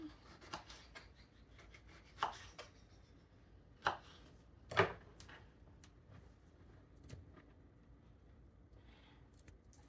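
Tomatoes being chopped into chunks on a cutting board: a handful of sparse, uneven knife taps against the board, a few sharper than the rest, in a quiet room with faint rustling between cuts.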